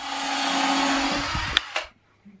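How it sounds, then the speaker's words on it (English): A power drill whirs loudly up close for about a second and a half, then cuts off with a couple of clicks and a brief wind-down. "Just testing if the drill works"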